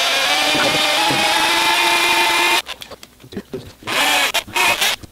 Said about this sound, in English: Now we're going to come in with the drill, and keeping it square both ways, just come in the depth,